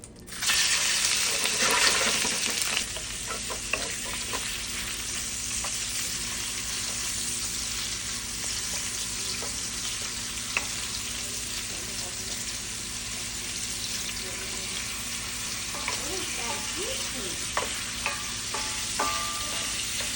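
Shrimp dropped into hot coconut oil in a pan sizzle and fry loudly and continuously up close, with a brief louder burst at the start and occasional stirring clinks over the steady hiss.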